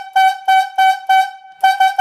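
A steam-style yarder whistle sounds a logging signal for the tail rigger: a loud, clear run of medium-length blasts at an even pace, a short pause, then more blasts, with no voices.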